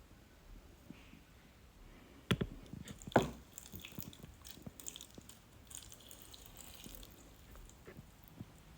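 Water swirls and splashes inside a container before being poured into a houseplant pot, soft sloshing with two sharper knocks early on, then light trickling and dripping that fades into quiet.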